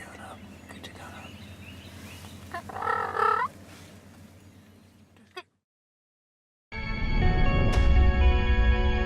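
A wild turkey gobbler gobbles once, fairly close, during a spring field hunt, with low murmuring beforehand, then a sudden cut to loud unrelated music.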